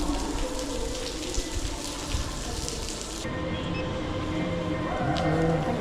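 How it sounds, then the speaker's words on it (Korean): Rain coming down harder during a trek near Fansipan in Sapa, Vietnam: a dense, steady outdoor hiss that is heavier for the first few seconds, then thins to a softer wash with low rumbling underneath. "비가 더 많이 와."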